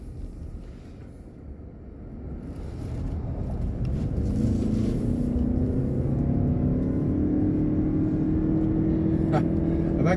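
A 2020 Toyota RAV4 Hybrid XSE in sport mode accelerates from inside the cabin, its engine rising from a low hum into a climbing, strained drone with road and wind noise beneath, and a voice talking at moments.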